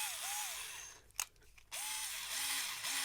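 A cheap, rattly Rolson cordless screwdriver runs in short bursts, a thin whirring motor that rises and falls in pitch with each start and stop, pausing briefly midway before spinning up again, close and alone.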